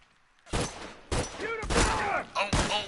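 Sniper gunfire in The Last of Us Remastered video game rings out as four or five loud, sharp shots with echoing tails, spaced unevenly over a few seconds.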